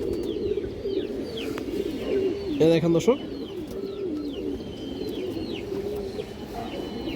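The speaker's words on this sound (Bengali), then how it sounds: "খুব সুন্দর একটা মাদি কবুতর" A female pigeon from a farm flock of black-necked and other breeds coos in low repeated phrases close by, while someone talks over it and a brief louder rustle or flutter breaks in midway.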